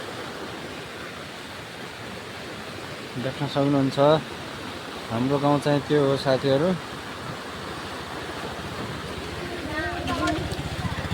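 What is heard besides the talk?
river in flood rushing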